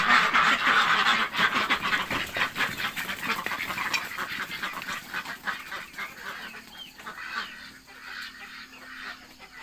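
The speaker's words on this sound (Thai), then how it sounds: "เป็ดออกมาแล้วค่ะ" Farm ducks quacking loudly at close range in the morning, a dense overlapping flock chorus that thins and grows quieter toward the end, with no talking.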